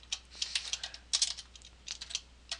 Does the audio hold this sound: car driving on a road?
no